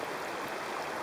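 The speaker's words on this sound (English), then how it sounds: "You can hear the river in the background." A river flows at Moonan Brook near a forestry hut on a sub-zero morning, making a brief, continuous, even rushing wash of water with no speech.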